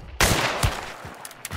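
A single loud, close gunshot cracks out in Hunt: Showdown, followed by a short decaying tail and a few fainter, more distant shots and thuds.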